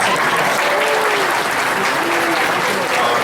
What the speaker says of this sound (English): give Mark a round of applause